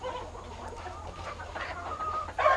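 Kadaknath hens on a farm of 800 birds cluck in a scattered chorus of short, overlapping calls at moderate distance, with a louder squawk near the end.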